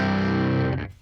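An electric guitar played through a Milk Dude Dirty amp capture on ToneX rings out one sustained, distorted chord that holds loud and steady before cutting off abruptly at the end.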